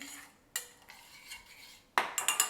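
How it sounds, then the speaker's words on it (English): A spoon stirring cocoa in a small pot, with a few bright metallic scrapes and clinks against the sides, close and clear. "Just give it a little stir."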